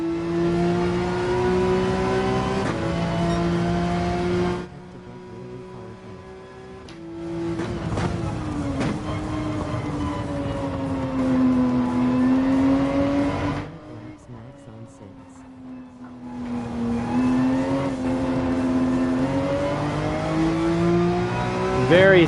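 A race car engine in Gran Turismo 7 drones steadily at high revs, with pitch shifts as it changes gear, pausing twice, and someone talks over it.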